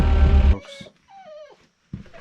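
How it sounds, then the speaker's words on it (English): A dog whimpers and whines in a high, wavering tone, with short yips and a low growl in between, fairly close, after a brief burst of rumbling noise at the start. "Release the dogs."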